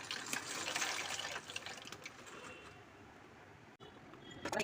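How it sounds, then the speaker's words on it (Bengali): Pasta tipped into a pot of boiling water, first a busy splashing, bubbling rush that settles into a quieter simmer, followed by a brief silence and a renewed burst of liquid sound. "পাস্তাগুলো এবার দিয়ে দিচ্ছি"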